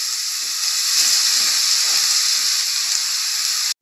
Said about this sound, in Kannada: ತುಪ್ಪದಲ್ಲೇ ಹಾಕಿ ಫ್ರೈ ಮಾಡೋಣ